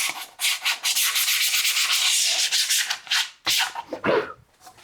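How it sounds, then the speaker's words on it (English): Close, steady hand sanding with sandpaper on the back of a wooden belt sander jig, a rough continuous rasping in strokes with brief pauses near the end. "we're going to take a little bit of sandpaper, break that backside."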